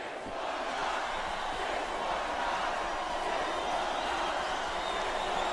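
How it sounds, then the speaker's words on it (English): A large wrestling arena crowd roars continuously, a dense wash of cheering and shouting that holds steady without pause. "I love hearing a crowd come alive"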